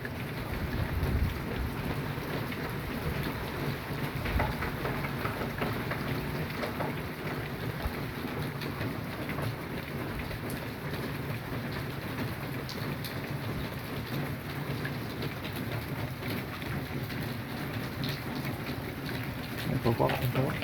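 Moderate thunderstorm with hail: steady, dense rain and hail drumming close by on surfaces across the whole stretch, with low rumbling underneath and a faint voice in the background.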